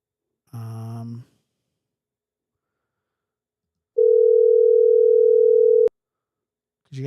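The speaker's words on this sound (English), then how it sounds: "You could hear the ring." A single steady telephone ringing tone on a call, about two seconds long, sounding alone after a short burst of voice and ending abruptly.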